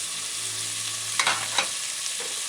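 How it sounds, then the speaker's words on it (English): Chicken and vegetables saute in a hot pan, giving a constant bright sizzle with a few louder crackles and a scrape midway; no one speaks. "See all that sauteing and that burning of the vegetables, creating flavors not in a bottle"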